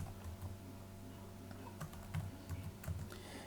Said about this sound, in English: Make sure you're typing everything correctly as you enter this data.